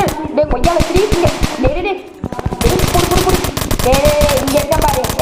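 Rapid bursts of automatic gunfire from the video game Dude Theft Wars crackle loudly, with repeated volleys and a short pause, while a person talks excitedly over them.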